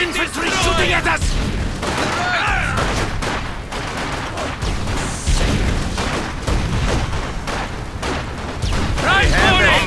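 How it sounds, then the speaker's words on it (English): Infantry gunfire in the Company of Heroes 2 Soviet campaign, a dense continuous fusillade of rifle and machine-gun shots with booms, loud and unbroken, mixed with shouted soldier voices. "Infantry shooting at us!"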